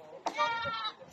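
A pregnant goat at a Cavite beach resort farm area bleats once, a single wavering call standing out close by, with faint background voices around it.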